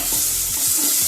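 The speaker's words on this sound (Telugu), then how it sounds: "ఈ ఉల్లిపాయలు ఫ్రై అవుతుంటే కొంచెం 1 స్పూన్ అల్లం" Onions frying in oil with ginger and turmeric, a close, steady hiss with a few soft stirring scrapes, no voices, for aloo bonda filling.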